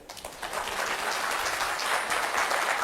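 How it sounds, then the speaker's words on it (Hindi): An audience at a cyber security lecture series bursts into brief, steady applause, a dense wash of many hands clapping for just under three seconds. "पहले एक बार अपने लिए ताली बजा दो।"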